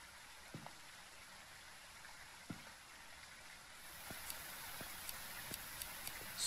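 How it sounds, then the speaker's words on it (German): Rain patters softly and steadily in the horror video game Phasmophobia, with scattered faint clicks and knocks over the quiet, continuous hiss. "Regnet."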